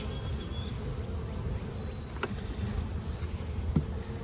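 Honeybees hum in a very weak hive, a soft steady buzz close by with faint scattered knocks.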